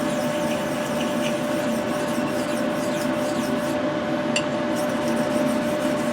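A straight razor is stroked back and forth on a sharpening stone with oil, giving a steady, continuous close rasping rub with no pauses throughout.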